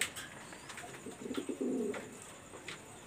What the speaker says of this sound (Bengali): এটা হলো লাল পায়রি কবুতর, এটা নিউরাল কবুতর।